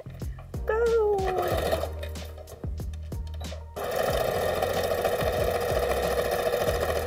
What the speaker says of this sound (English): I sewed very long seams through the sewing machine.